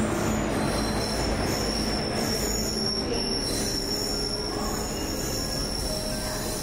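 A train pulls into the platform at Ranchi railway station with loud, continuous high-pitched wheel squeal over a dense rumble of rolling railcars, sustained throughout.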